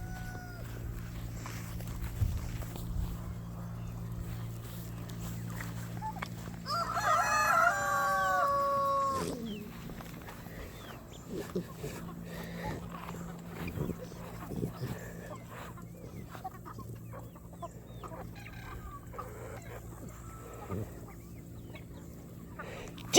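Barnyard chickens cluck softly around a farm while a rooster crows loudly once in the middle, with a voice speaking faintly in the background.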